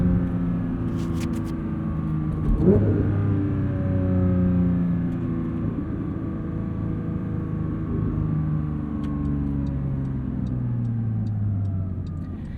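A 2022 Porsche 911 GT3 engine holds about 5,000 RPM with a strong harmonic howl, pitch sweeping gradually over several seconds; loud, close, steady, no voices.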